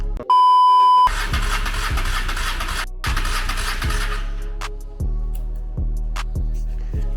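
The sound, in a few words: 1995 Honda Shadow VLX600 motorcycle engine cranking, not starting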